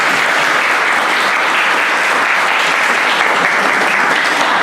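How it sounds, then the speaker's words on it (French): Guests at a traditional wedding give sustained, even applause for the groom's family representative, a dense roomful of clapping at a steady loud level with no speech over it. "Applaudissez pour lui s'il vous plaît"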